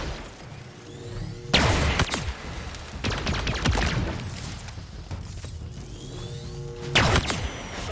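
Plasma pistol firing in the video game Halo Infinite: a few loud, sharp energy discharges spaced seconds apart, each with a crackling burst and brief decay, over a busy game backdrop of softer impacts and hum.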